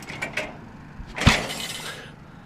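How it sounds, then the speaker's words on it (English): A huge, heavy piece of scrap metal dropped to the ground lands with a single deep, loud thud and a brief clattering ring. Lighter scraping and rustling come before it, and the impact is heard nearby. "Listen to the thud this thing makes when I drop it down"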